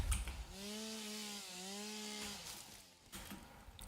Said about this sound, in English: Come taste my chainsaw.